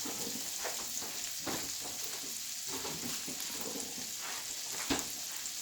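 Butter melts in a coated pan with a steady soft sizzle and occasional light scrapes of a whisk, fairly quiet and continuous with no voices.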